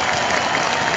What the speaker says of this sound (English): An enormous round of applause for them.